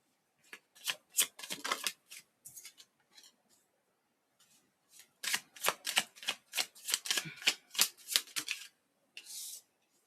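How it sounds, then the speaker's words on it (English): Tarot cards are laid down on a table in two quick runs of crisp slaps and flicks, close and fairly loud, separated by a short pause, with no one talking. "I'm gonna lay down the first thing that flew out is the devil. The cards first."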